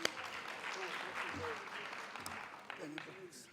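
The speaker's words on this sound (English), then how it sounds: "Let's just give them a round of applause," Steady crowd applause fills a conference hall at a college policy conference, a dense wash of clapping with a faint voice or two rising underneath near the end.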